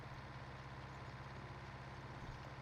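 A tractor engine idles and runs in Farming Simulator 19, a steady, even low drone with a faint higher hum, constant and uninterrupted at moderate volume.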